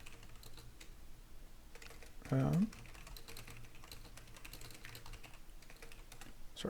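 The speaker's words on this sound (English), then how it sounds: "Sorry, typing to people on Discord" Typing on a computer keyboard while chatting on Discord during a game session, soft continuous key clatter at low level under faint background game sound, with one louder brief burst midway.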